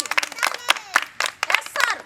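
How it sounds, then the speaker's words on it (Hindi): At a village school's 26 January Republic Day program, an audience gives a short round of quick, uneven hand claps, mixed with a few voices. "ताली"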